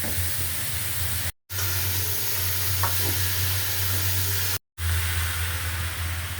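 Sweet pumpkin frying and being stirred in a pan, a steady close sizzle with a low bubbling hum and faint scraping, broken by two brief silent gaps.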